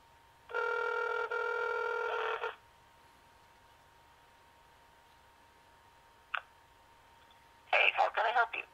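A Motorola RAZR V3xx cellphone making a call: a loud two-second burst of dial tones, a short blip, then a faint steady line tone, and finally a choppy ringing or connecting sound near the end.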